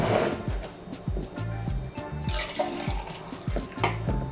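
Green juice from a Breville juicer overflowing and pouring, a steady watery splashing and trickling stream close by, with rhythmic low thumps underneath throughout.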